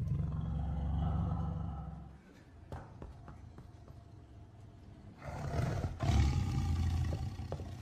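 A tiger roars in an Indonesian film scene, a deep rumbling roar that fades, then a second loud roar swells back later, with faint thuds and movement in between.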